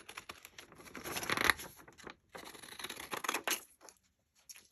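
Scissors snip through paper while a craft page is made: brisk, close cutting strokes with scratchy rustles, pausing briefly and then starting again, with no voices.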